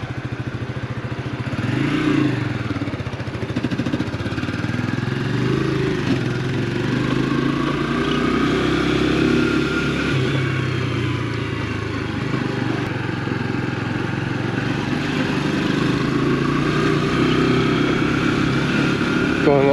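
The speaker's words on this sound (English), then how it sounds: "The engine sounds nice and smooth" An AJS Tempest Roadster 125 motorcycle engine hums steadily while riding, a smooth, continuous small-engine drone with slight pitch shifts, heard close and mixed with road and wind noise.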